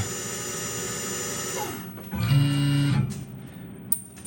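A long-reach boring tool rubs inside a hole on a Tormach CNC mill, a brief loud grinding whine for about a second between quieter machine hum and clicks.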